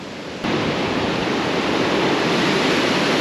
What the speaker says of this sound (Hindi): ये देखिए इधर, प्योर ग्लेशियर का पानी है ये।